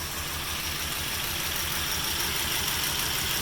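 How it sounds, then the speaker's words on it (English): A 1935 Ford flathead V8 engine idles smoothly and steadily, a low even rumble with a regular pulsing beat, close and alone. "Starts right up. Just listen to that flathead."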